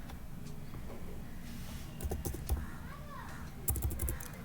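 Python code is typed on a computer keyboard in quick, soft clusters of key taps at close range, with short pauses between them, over a faint background hum.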